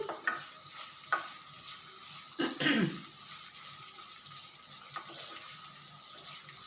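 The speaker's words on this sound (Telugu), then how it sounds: "ఆనియన్స్ బాగా వేగిన తర్వాత ఇదండి రెండు ఆలగలు ఒక పట్ట రెండు లవంగాలు వేసాను" Onions fry with cardamom, cinnamon and cloves for a jowar millet chicken curry. A soft sizzle sits under scattered stirring scrapes and one louder spoon sweep near the middle, with no talking.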